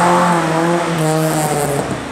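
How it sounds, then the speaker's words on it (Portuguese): An Alfa Romeo GTV/GTAm race car engine roars loudly and steadily, its pitch holding then shifting slightly as it revs, close and continuous with no talk. "É um ronco muito cheio, é muito musical"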